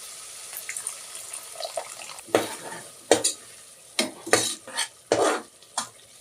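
Egg biryani masala with sautéed potatoes cooks in a pan after a quarter tumbler of water is added. Soft background sizzling is broken by a series of sharp, close stirring and scraping bursts, with no talk.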